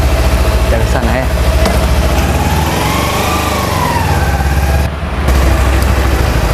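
A motorcycle engine idles close by with a loud, steady low rumble that dips for a moment, with faint voices underneath.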